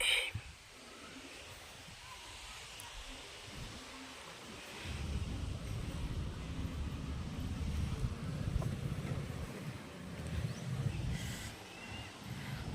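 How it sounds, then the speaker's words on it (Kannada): Strong wind gusts roar against the microphone, a steady rush that grows heavier and more turbulent midway, with low rumbling buffeting throughout. "ಆಷಾಢದ ಗಾಳಿ ಜೋರಂದ್ರೆ ಜೋರಾಗಿ ಬಿಟ್ಟಿದೆ ನೋಡಿ"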